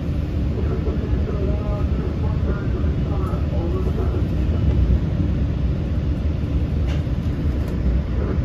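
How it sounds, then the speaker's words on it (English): A Long Island Rail Road commuter train pulls out of Jamaica station, a heavy continuous low rumble and rolling roar that stays loud and even throughout, with faint squeals above it. "Train leaving."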